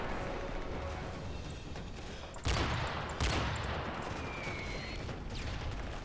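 Gunfire in the video game Spec Ops, a low rumbling battle backdrop punctuated by two sharp, loud shots a second apart, followed by a faint whistling streak, with no talking.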